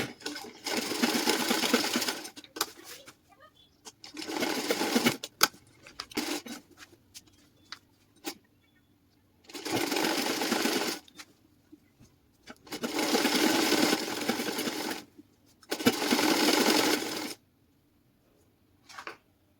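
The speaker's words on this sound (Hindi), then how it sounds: "आप वहां तक इसको बंद कर दीजिएगा।" A sewing machine stitches the bottom hem of ladies' loose-fitting pants, running in several close, steady bursts of a few seconds each, separated by short pauses.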